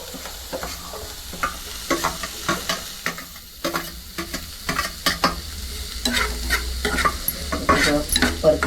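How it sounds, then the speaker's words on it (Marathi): Sliced onion and green chillies sizzle in a pan for a Konkan-style val bean and potato curry, with a spatula scraping and stirring in repeated, close, uneven strokes over a steady frying hiss. "आणि कांदा घालून घेते याच्यामध्ये. परतून घेते आणि ताबडतोब मिरच्या पण घालते."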